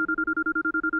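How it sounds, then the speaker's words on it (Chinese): A telephone rings nearby with a rapid electronic trill: about ten even, evenly spaced tone pulses in one continuous burst, clear and alone. "电话来了。"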